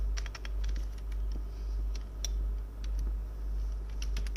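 An email address is typed on a computer keyboard as a quick run of light, close key clicks over a steady low hum, with no speech.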